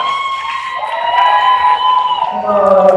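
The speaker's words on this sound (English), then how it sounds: "I'm gonna do like a little crowd applause vote here" Live crowd at a cocktail competition final in Miami cheers and whoops loudly, a sustained burst of shouting and applause voting for Taco Number 1.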